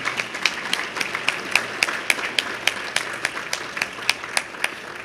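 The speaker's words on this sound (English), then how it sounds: "Can you give them a round of applause," Sparse audience applause at a commemorative luncheon, with a few distinct hand claps popping out over a light bed of clapping, fairly close and steady.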